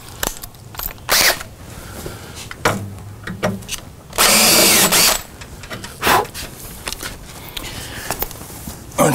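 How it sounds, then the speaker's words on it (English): Power drill boring a hole in metal with a larger bit while restoring an Atari Cloak & Dagger arcade cabinet, sounding in several short close bursts, one longer whine in the middle, and clatter and handling noise between them. "Let me get a slightly larger drill bit here."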